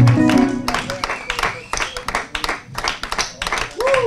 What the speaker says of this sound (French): Des acclamations à l'honneur de ce Dieu.